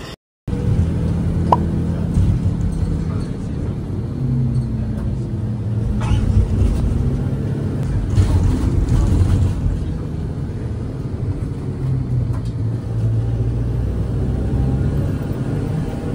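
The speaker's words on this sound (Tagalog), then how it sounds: "So, yan yung bus na sinakyan namin." A Capital Bus S15 rumbles steadily along the road in Taiwan, a low continuous engine drone heard from inside the cabin with faint clunks and rattles scattered through the ride.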